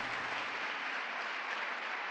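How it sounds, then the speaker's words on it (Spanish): A church congregation applauding, a faint, even wash of many hands clapping that holds steady throughout, heard at a distance with no speech over it. "Aplauda si usted, si usted captó eso."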